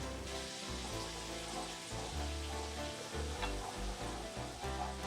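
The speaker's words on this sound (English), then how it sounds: "I'm just going to let this melt here slowly and work its way in." Butter melts and sizzles steadily in a pan alongside ribeye steaks for a lemon caper butter sauce, a constant close frying crackle with no talking.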